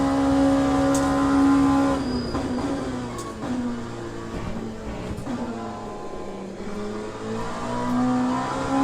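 An F1 car engine in the racing sim Le Mans Ultimate revs loudly and accelerates through the gears, its whining tone rising and dropping with each shift, close and continuous without any talking.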